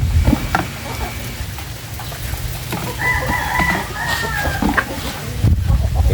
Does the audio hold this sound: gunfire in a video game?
no